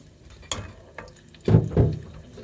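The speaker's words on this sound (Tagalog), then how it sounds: "Maggisa na po tayo sa ating sibuyas." Sliced onions sauté in a hot home-kitchen pan, a soft sizzle broken by a few sharp stirring scrapes, with two louder bursts near the end.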